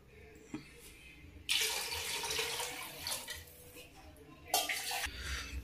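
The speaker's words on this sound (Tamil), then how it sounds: "நம்ம இப்போ வாட்டர் ஆட் பண்ணுறோம் இது கூட" Water pours into a cooking pot for Ambur biryani in a few bursts with splashing gushes and quiet pauses between, close by.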